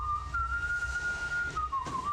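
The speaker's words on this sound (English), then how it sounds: "he started whistling the Air Force song" A person whistles the Air Force song "Off We Go into the Wild Blue Yonder" in a clear, steady tone, holding one long note before dipping down, heard alone over a low rumble.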